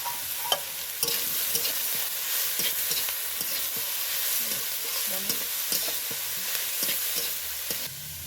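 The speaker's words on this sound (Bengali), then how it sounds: "এই সবজিটা একটু ভাজা ভাজা করে নেব।" Vegetables for chicken fried rice sizzle steadily in a pan at home, with repeated scraping and stirring clatter and no talk.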